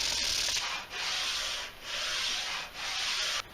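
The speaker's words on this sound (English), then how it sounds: "This seemed like a good time to do the sanding, whilst everything is just 2 pieces." Wooden picture frame pieces being sanded, steady loud abrasive scrubbing in four long sustained passes with brief gaps between them, close up and with no voices.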